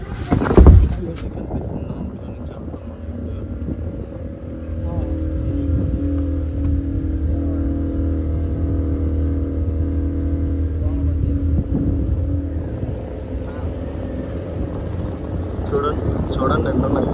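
A motorboat on Chilika Lake runs its engine with a steady low drone, loud and close, after a sharp knock at the start, the engine note holding evenly before easing toward the end.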